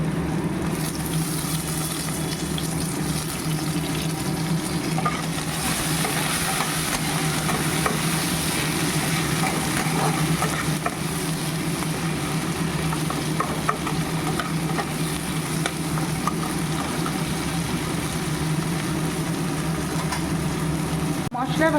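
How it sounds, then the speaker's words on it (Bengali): Onion, tomato and spices frying in a pan, with a continuous dense sizzle and irregular stirring scrapes that stay steady and close throughout. "মশলা ভাজা হয়ে গেছে।"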